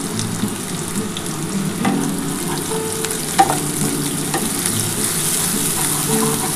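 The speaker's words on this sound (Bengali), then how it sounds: "একটু ভেজে নিই বন্ধুরা।" Onions fry in hot oil for biryani, giving a constant close sizzle with occasional stirring scrapes and no talking.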